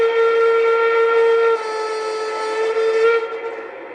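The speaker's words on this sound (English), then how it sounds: "F4 is a multi-tone whistle." An LGB model train's multi-tone steam-style whistle sounds loudly and steadily for about three seconds, its chord-like tone fading out at the end.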